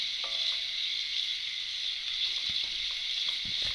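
Ingredients for a broad bean dish sautéing in a pan, a steady close sizzle and hiss with occasional faint stirring clicks, no talk.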